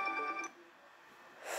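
A phone ringtone from a withheld-number call sounds briefly and clearly in a quiet room, cutting off after about half a second, with a short burst of noise near the end.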